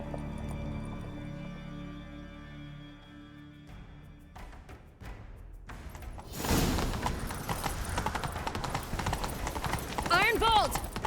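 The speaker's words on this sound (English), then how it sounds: "Grab a horse, we'll chase him down." Horse in The Witcher 3 setting off at a gallop, rapid hoofbeats building after a quieter stretch of game sounds, loud and close with a brief whinny near the end.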